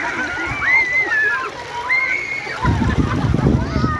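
Water splashing and sloshing as people bathe in a clear river, turning louder and busier partway through, with people talking over it outdoors.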